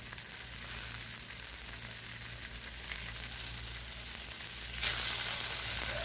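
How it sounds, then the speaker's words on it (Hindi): Beef burger patties frying in a pan, giving a steady, close sizzling hiss that grows somewhat louder and brighter near the end, with no talking. "इसी तरह हमने बाकी पैटीज़ भी फ्राई कर लेने हैं जितने हमने बर्गर्स बनाने हैं।"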